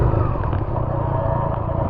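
A motorcycle engine drones at a harbour in Sumatra, Indonesia, a steady, fairly loud rumble that holds without a break.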